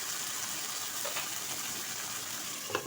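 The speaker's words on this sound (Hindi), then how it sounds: "अब मैं इसमें ऐड कर रही हूँ पानी थोड़ा सा" A little water poured into a pan of frying potatoes for a masala omelette meal makes a steady, close hiss and sizzle that holds throughout, with a couple of faint pops and no talking.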